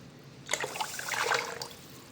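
Water is poured from a vessel onto rice headed for a rice cooker, a brief splashing gush of about a second that starts abruptly and tapers off, close and fairly quiet.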